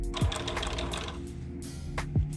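A sewing machine runs short stitching bursts through the leather upper of a custom Air Jordan 1 sneaker, a quiet close mechanical whir with a couple of thumps as the work is adjusted.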